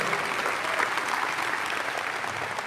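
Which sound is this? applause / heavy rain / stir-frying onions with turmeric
applause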